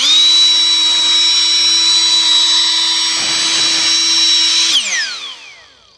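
A high-power electric air blower runs loud and steady with a shrill motor whine, blowing fallen tamarind leaves, then switches off and spins down over the final second.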